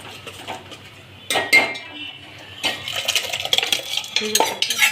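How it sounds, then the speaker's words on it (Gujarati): Boiled dal goes into a hot tempering in a pot and is stirred, with close metallic clinks and scrapes of a spoon against the pot and soft wet sloshing, in intermittent bursts. "હવે બાફેલી દાળ નાખી દઈશું અંદર."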